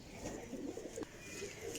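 A Ferozpuri blue pigeon coos softly at close range, a short run of low, rolling murmurs against quiet background noise, with no talking.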